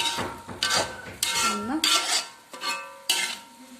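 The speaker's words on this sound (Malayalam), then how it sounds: "നന്നായി വെജിറ്റബിൾസ് എല്ലാം മിക്സ് ആവാനായിട്ട് നമ്മൾ ഇറക്കി കൊടുക്കുന്നു." A spoon stirring vegetables in a metal cooking pot, with repeated clanks and scrapes in uneven bursts, close and fairly loud, no talking.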